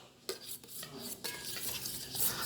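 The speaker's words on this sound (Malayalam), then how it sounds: "കുറേ ഇളക്കി കൊടുത്തു." A spoon stirs soup in a pot, with several sharp metallic clinks and scrapes against the pot over a soft swishing stir, close and fairly quiet.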